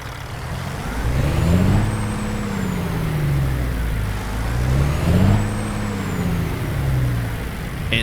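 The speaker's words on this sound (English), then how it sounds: "let's go ahead and get our Kenworth W900 started up" A Kenworth W900 diesel in American Truck Simulator runs with a deep, steady rumble, rising and falling in pitch twice in similar sweeps, loud and close with no talk.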